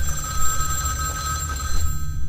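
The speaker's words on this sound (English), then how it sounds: "Now we have to answer that phone." An old-style telephone bell rings steadily in Vampire: The Masquerade - Bloodlines, a bright continuous trill over a low background hum, with a brief pause near the end.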